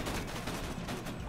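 Rapid automatic gunfire in a video game, a dense continuous rattle of shots filling the short moment, loud and close with no talking over it.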